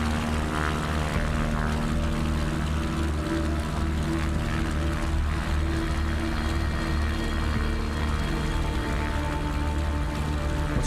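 A video game plane's propeller engine runs at full throttle, a steady loud droning roar that holds unbroken throughout with no voices over it.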